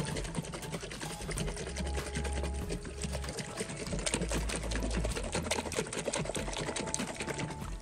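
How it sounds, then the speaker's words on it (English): A lidded jar of water for homemade vinegar is shaken hard, producing a continuous rapid sloshing and rattling that keeps a fast rhythm for several seconds, close up and moderately loud. "I'm just going to our lid on so we can give it a"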